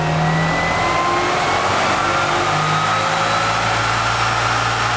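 An ETS prototype electric motor spins at a steady speed, a loud continuous whirring hum with sustained tonal whines that hold level throughout, no voices.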